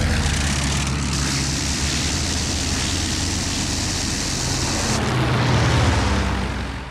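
Engines of World War I fighter planes, German Fokkers and French Nieuports over Verdun, droning as a steady, loud broadband roar that holds throughout and swells slightly near the end.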